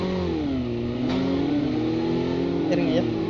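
Vehicle engine revving in the mobile game Call of Duty Mobile during a ranked battle royale match, a steady mid-pitched drone rising and falling, close and loud throughout.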